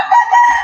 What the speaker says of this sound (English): That's our shamu roaster and the shamu hen